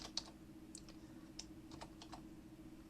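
Rapid computer keyboard clicking, a series of sharp, close taps in irregular bursts over a steady low hum, with no talking.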